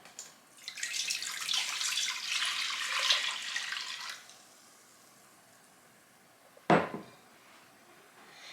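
Dandelion infusion is poured into a pot as a steady splashing stream for about four seconds, then a quiet pause and one sharp clank of the pot or vessel.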